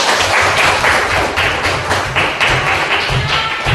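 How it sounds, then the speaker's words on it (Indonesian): Applause breaks out for a mother after she serves sweet, savory getuk in a classroom cooking activity, a loud, steady patter of many hands clapping together, with dense taps and a few thuds running throughout. "Beri tepuk tangan dulu untuk Mama"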